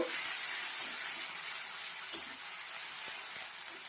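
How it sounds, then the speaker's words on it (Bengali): Garlic and green chili frying in a hot pan give a steady, close, hissing sizzle that holds evenly throughout with faint crackles and no voices. "দেখো হালকা ভাজা হয়ে গেল রসুন আর কাঁচা লঙ্কাটা"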